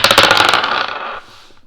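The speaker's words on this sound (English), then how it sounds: "I'm going to go ahead and start off with the dice" Dice are rolled for a tarot reading, a bright burst of clattering rattles tumbling on a hard surface that settles and fades within about a second, close and loud.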